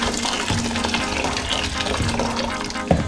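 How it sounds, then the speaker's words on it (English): Hot water poured from a kettle onto washed rice in a cooking pan, a steady splashing and bubbling pour lasting a few seconds, with a small clink near the end. "I have now washed my rice and I am just going to put that in straight in there with some hot"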